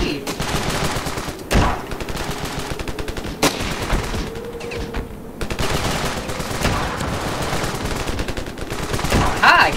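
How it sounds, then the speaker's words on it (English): Gunfire in the video game Ravenfield, loud close shots including sharp single blasts amid rapid bursts of automatic fire and distant battle noise, with a voice talking over parts of it. "Ooh, it is a shotgun!"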